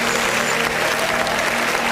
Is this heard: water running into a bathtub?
no